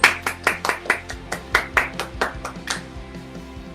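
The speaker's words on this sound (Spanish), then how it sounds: "Dale un fuerte aplauso al Señor." A church congregation claps in a fast, regular rhythm, the sharp hand claps loud and close with some ringing behind them, then fading slightly toward the end.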